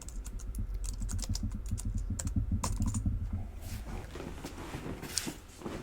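Keys clatter on a computer keyboard in rapid, uneven bursts as a command is entered in a terminal, close and steady for several seconds before thinning into a few lighter, scattered taps with faint background noise.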